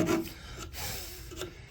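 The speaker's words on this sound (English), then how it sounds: "cut this dowel down, and then I will replace this dowel with another one" A hand saw cuts through a wooden dowel during repair of a 1930s end table, giving short rasping strokes, close and fairly loud, with a brief pause between bursts.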